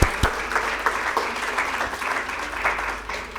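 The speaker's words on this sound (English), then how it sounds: "So another round of applause." An audience at a university session with a Pakistani mountaineer breaks into applause, a dense, steady wash of clapping that fades slightly over a few seconds.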